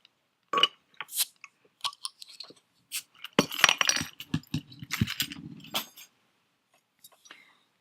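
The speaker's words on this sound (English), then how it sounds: "Let's open the beers." Beers aged in Isle of Arran whisky casks being opened and poured, with sharp clinks of glass and bottle, short hisses and scattered taps, close and fairly quiet, under soft, hushed talk.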